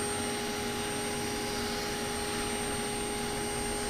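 A grooming vacuum attached to electric shears runs while cats are clipped, producing a steady, loud, even whine and hiss that holds constant throughout, with no voices.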